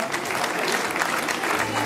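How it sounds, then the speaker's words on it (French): An audience at the prize-giving for the Nuits-Saint-Georges half marathon claps steadily, a dense, continuous patter of many hands throughout. "je vous demande de l'applaudir très fort"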